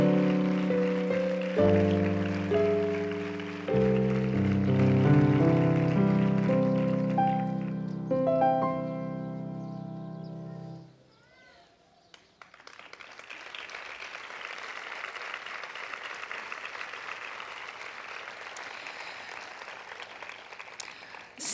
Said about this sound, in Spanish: Un fortísimo aplauso también para ella.